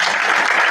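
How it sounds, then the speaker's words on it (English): A brief snatch of steady applause from a symposium audience, dense clapping at an even level with no voices over it. "another round of applause"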